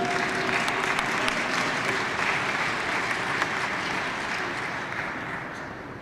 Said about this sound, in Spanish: Saqué aplausos.